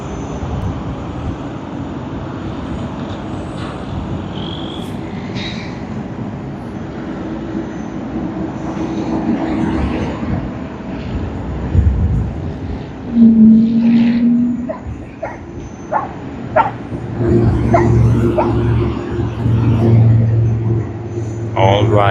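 A Qantas Boeing 737-800 on the Perth service begins its takeoff roll at Sydney Airport, with a low engine rumble that builds and swells over the stretch, heard beneath intermittent nearby talk.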